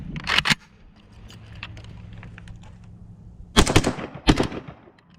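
An AK rifle fires through a magazine in a few sharp, loud bursts, one at the start and two near the end, with quieter mechanical noise in between.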